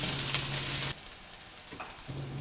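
Crushed shallots, garlic and curry leaves sauté in hot oil in a pan. A bright, close sizzle crackles loudly at first, then settles into a softer frying hiss with faint stirring.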